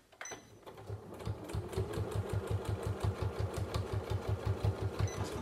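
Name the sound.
sewing machine stitching a fabric card holder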